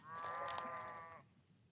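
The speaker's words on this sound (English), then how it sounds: "Can't even make friends with sheep." A single sheep in the high desert gives one drawn-out, wavering bleat, moderately close and clear, fading into quiet outdoor air.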